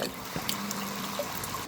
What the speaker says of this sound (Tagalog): The tubig getting poured out by the pump.